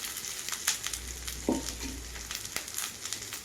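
Chopped young clove beans (nithya vazhuthana) tumble into a hot pan and fry, a steady broadband sizzle with a brief clatter as they land, continuous and close with no talking.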